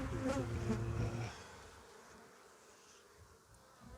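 Honey bees buzzing around a hive in an apiary before winter, a loud close hum in the first second that fades to a softer, steady drone.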